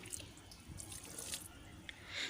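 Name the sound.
watering potted plants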